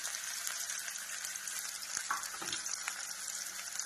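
Onion frying in hot oil, a steady, dense crackling sizzle throughout with a few faint stirring knocks, no voices.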